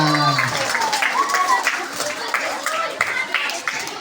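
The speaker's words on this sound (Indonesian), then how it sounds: "tepuk tangan dong buat Bapak dan Ibu" Schoolchildren clap for their hosts Bapak and Ibu Tugiran at a batik workshop, scattered applause under children's voices.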